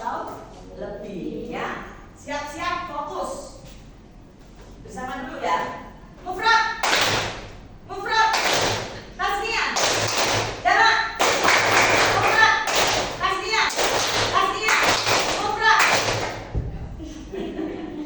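A classroom of students claps in unison during a group game, in a series of sharp, separate bursts that grow louder and denser over time. A teacher's voice and children's voices are heard between and under the claps.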